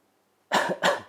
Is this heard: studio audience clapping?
no